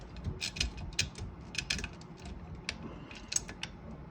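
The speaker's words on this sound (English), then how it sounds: "we're gonna put on this left knob, and you're just gonna make sure it's threaded" A left knob threaded onto the platen of an Olivetti Lettera 3 typewriter, close-up small clicks and ratcheting mechanical ticks scattered irregularly over a quiet background, with no talk.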